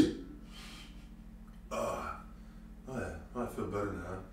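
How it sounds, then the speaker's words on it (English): A man lets out a burp during a chest-day workout, a short throaty eruption after a quiet pause, close and fairly loud, with his own talk before and after it. "Cover your ears, I have to burp."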